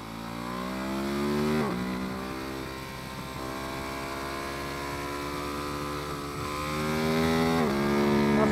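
Ducati motorcycle at full throttle on the Silverstone GP circuit, its engine whine climbing steadily through the gears with sharp drops at each shift, loud and close throughout.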